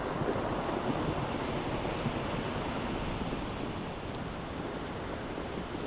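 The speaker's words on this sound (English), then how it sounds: "The frantic shouting of men as they try to secure the sails against the rising gale." Stormy sea waves and a rising gale at sea in an audio drama, a steady dense roar of surf and wind that stays fairly even and moderately loud throughout, with no voices.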